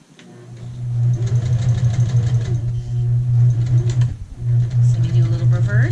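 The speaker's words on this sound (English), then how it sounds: "since I'm sewing on a home sewing machine" A sewing machine runs in fast, continuous stitching bursts with a brief pause midway, its motor humming loudly and close.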